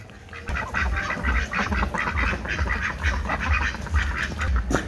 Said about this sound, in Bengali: এই যে একটা হাঁস দেখছেন না